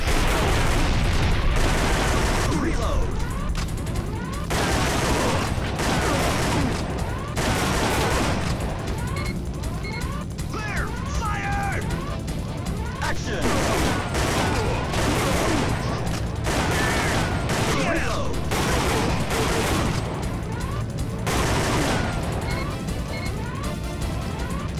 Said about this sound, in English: I gotta shoot these guys up here though.